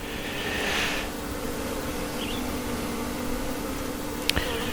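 A steady, low insect hum of many honeybees in a hive fills the clip, continuous and close, with a brief sharp click near the end.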